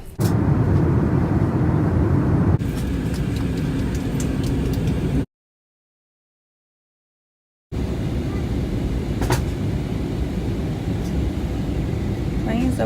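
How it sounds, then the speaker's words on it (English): Steady, loud broadband roar of an airplane cabin as the plane approaches landing, continuous and close, with a brief silent gap partway through and faint clicks over the drone. "Plane's about to land"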